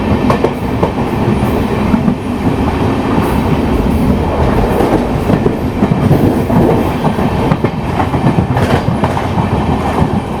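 Tirunelveli to Mangaluru Express running along the main line, heard from inside the train: a loud, steady rumble with dense clickety-clack of wheels over rail joints throughout.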